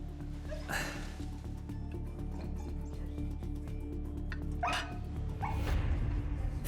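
A dog gives a few sharp barks, three separate outbursts spread across the stretch, over a steady background hum indoors.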